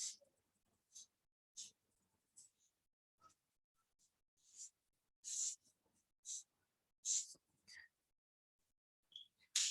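A pen sketching a heart diagram on paper gives intermittent short scratchy strokes, close and quiet, with pauses between lines and faint background breath.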